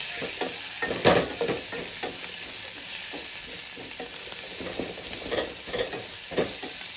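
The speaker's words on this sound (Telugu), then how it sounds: "అల్లం కూడా దీంతో పాటు బాగా వేగాలి" Tomatoes and ginger sizzle in hot oil in a pan for semiya upma, a constant close frying hiss broken by the scrape and clatter of stirring.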